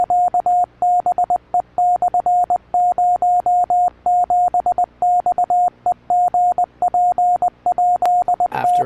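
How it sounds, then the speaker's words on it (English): Morse code tones beep in an irregular pattern of short and long pulses at a steady pitch, continuing for several seconds with a faint hiss in the background and a brief crackle near the end. "eventually Morse code starts playing"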